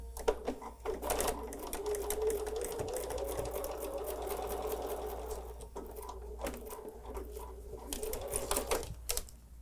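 A sewing machine stitches quilt fabric for a Christmas sew-along, a fast, steady mechanical whir and tapping running for several seconds, close by and fairly quiet, with brief pauses and clicks near the start and end.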